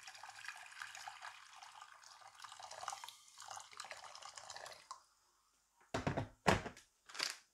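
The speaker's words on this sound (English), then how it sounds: "Our water is now set. Let's transfer it into the pot." Water is poured from one vessel into a cooking pot for sausage, a continuous splashing stream for several seconds, then a pause followed by a few distinct knocks and drips.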